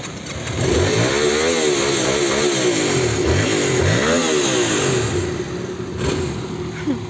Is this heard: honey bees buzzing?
no